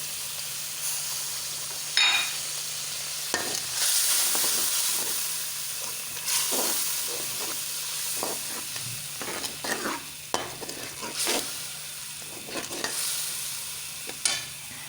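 Masala with half a cup of yogurt being stirred in a frying pan for a gobi chicken potato dish: a steady sizzle under repeated scraping stirs and clinks of the spoon, close by, with no talking.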